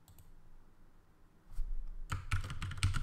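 A computer keyboard in an Unreal Engine 5 session on Ubuntu gives soft, quiet clicks at first, then a quick flurry of louder, close keystrokes tapping out a Control Shift S shortcut.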